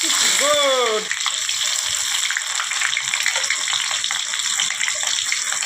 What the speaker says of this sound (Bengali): পেঁয়াজটা আমি এখন বাদামি করে ভেজে নিব